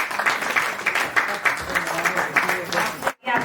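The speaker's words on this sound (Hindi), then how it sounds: "जोरदार तालियां" Audience applause at an annual celebration event, a lively crowd clapping in uneven bursts for about three seconds before cutting off abruptly.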